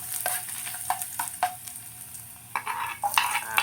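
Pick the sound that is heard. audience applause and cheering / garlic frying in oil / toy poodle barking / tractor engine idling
garlic frying in oil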